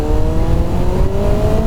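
Kawasaki ZX-9R motorcycle pulling away under hard throttle, a loud, close, steady engine roar with its pitch climbing smoothly across the whole stretch.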